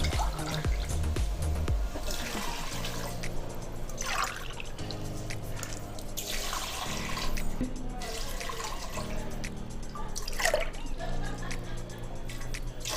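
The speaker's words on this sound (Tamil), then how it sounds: "இதில் 4 உலக்கு தண்ணி ஊற்றிடலாம்." Water pours into a pot of washed rice with a running, splashing trickle, alongside light kitchen clatter and a tonal background.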